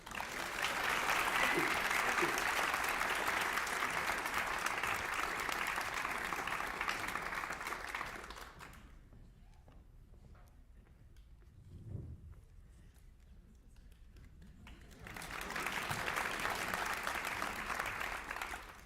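An audience welcomes author William Kent Krueger with loud, sustained applause for about eight seconds, a quiet pause, then a second strong burst of clapping from the whole room.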